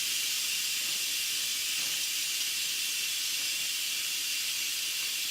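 An Instant Pot blasts steam during a quick pressure release with rice pilaf inside, a constant loud hiss that never lets up, close by and with no voices over it.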